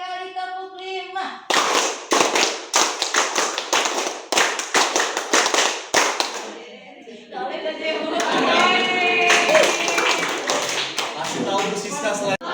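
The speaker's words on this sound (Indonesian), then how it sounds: "3 kali tepuk 5." A crowd claps a five-beat rhythm three times over at a lively show, a run of loud, crisp, closely grouped hand claps, then gives way to a noisy, cheering crowd.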